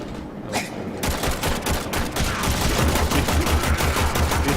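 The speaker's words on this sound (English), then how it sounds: "Guys are constantly firing from afar" Steady, dense enemy gunfire crackles from a distance in the sci-fi shooter Warframe, continuous bursts with no pauses and no talking.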